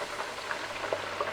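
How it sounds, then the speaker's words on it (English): A pot of potatoes and gravy simmers on a stovetop, giving a soft, steady bubbling and popping texture with small irregular blips, fairly quiet and close, with no voices. "if I don't watch it, it will boil over. So you have to hold it at bay and let everything simmer"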